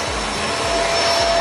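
A Shark Duo vacuum cleaner runs close by during a household deep clean, its loud, steady motor whine and airflow roar continuing without pause through the brief moment.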